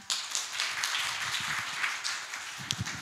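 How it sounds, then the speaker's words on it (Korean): Applause from a conference audience at a local startup ecosystem summit, a steady wash of many hands clapping throughout, fairly close and even. "박수 부탁드립니다"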